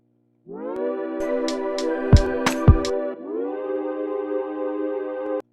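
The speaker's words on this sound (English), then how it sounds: "It's filtered out so that it's just filling the mid-range with that nice glidey sound" Filtered synth pad swelling in with a smooth gliding pitch, a few sharp percussive hits in the middle, then a steady held chord.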